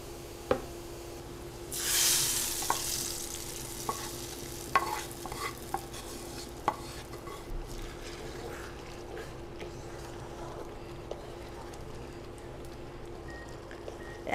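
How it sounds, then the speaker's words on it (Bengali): Onion tempering, fried until red, being stirred into a mixed vegetable curry, with a brief burst of sizzle early on followed by scattered scraping stir clicks over a steady low hum. "এখন আমি এটাকে বাগার দিয়ে দিব সবজিটাকে"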